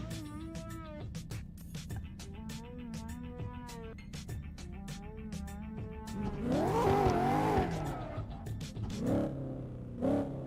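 Two drift cars, Turbo TC following Denied Luck, in an amateur drift series round, engines buzzing steadily before a loud sustained tire squeal with revving swells, heard from nearby.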